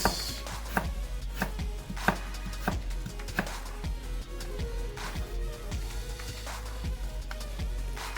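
A knife chops food on a cutting board while preparing brown stew fish, a series of close, crisp knocks in an uneven rhythm, some strikes sharper than others, with no voices.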